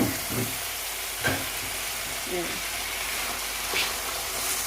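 Turnip and chicken frying in oil for shalgam chicken, a steady close sizzle with occasional clinks and stirring bursts, carrying on evenly throughout without pause.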